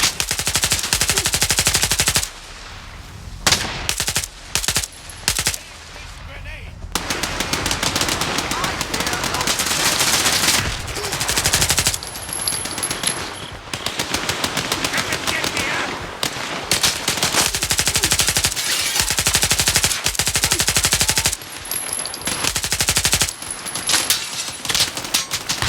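Sustained automatic gunfire in the STALKER 2: Heart of Chornobyl PC game, dense rapid bursts rattling almost continuously with short gaps, loud and close, with faint voices at times.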